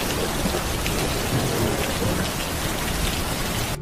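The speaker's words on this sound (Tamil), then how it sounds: "வெளியே ஜோன்னு மழை." Heavy rain pours steadily with thunder rumbling beneath it, a dense, loud, unbroken wash of noise with no voices.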